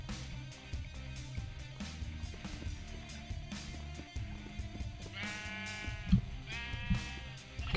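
Sheep bleat in the game Minecraft, a couple of wavering bleats near the end over steady background game music, with no talk.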